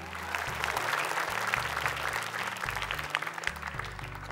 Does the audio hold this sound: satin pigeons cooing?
no